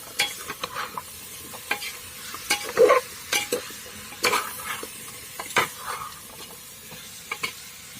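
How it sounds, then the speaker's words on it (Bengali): Chicken and vegetables fry together in a pan for kuash aloo chicken, a close steady sizzle broken by irregular scraping stirs and light clinks, with no voices. "এখন সবজির সঙ্গে মাংস ভালো করে ভেজে নেব।"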